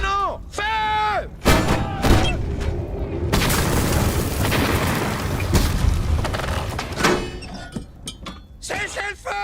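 Heavy cannon blasts boom in succession, loud and close, with shouted voices in between the shots.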